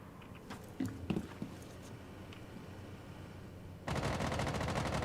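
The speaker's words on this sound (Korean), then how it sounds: "쟤네들 쏜다" Enemy gunfire in Rainbow Six Siege: a few scattered muffled shots and clicks early, then a loud rapid automatic burst near the end, with a faint voice briefly heard.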